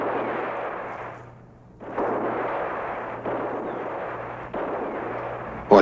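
Heavy gunfire during a shootout in a Brazilian film, with loud, booming bursts of shots in long sustained volleys, a brief lull near the start and a sharp crack at the end.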